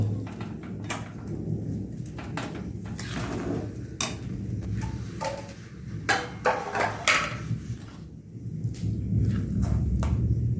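A thunderstorm with steady heavy rain and repeated sharp cracks and rumbles of thunder, several close bursts in a row.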